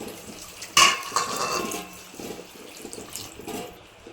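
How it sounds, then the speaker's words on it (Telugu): Water pours into a cooking pot of rice, yogurt and garam masala for egg biryani, a close splashing gush that starts sharply and then runs on as a steady stream. "టూ గ్లాసెస్ వాటర్ వేసుకుంటున్నాం"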